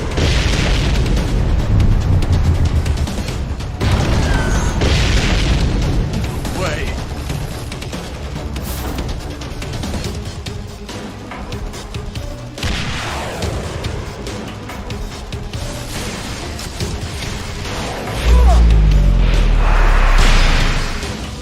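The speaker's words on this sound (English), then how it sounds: "We seem to be witnessing a firefight on the perimeter of the White House." A firefight on the perimeter of the White House: heavy booming explosions and bursts of gunfire roll on loud and close throughout, with a big blast near the end.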